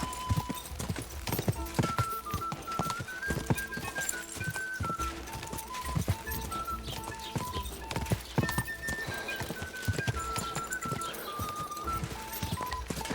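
Horse hooves clip-clop rapidly at a gallop during a race in Kingdom Come Deliverance II, steady and close, with occasional whinnies, a tonal music line running underneath throughout.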